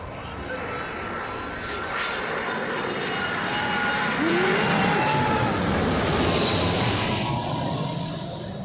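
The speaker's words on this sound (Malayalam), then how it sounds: "അതാ ഒരു വിമാനം വരുന്നു" A fixed-wing airplane approaching Calicut airport at dusk, its engine roar loud and continuous, swelling toward a peak midway and then easing slightly, with outdoor background noise throughout.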